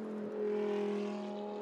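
A Lamborghini Blancpain Super Trofeo race car overtakes at the Sepang circuit during the 2014 World Final, its engine a sustained high whine that holds steady and close, swelling slightly midway.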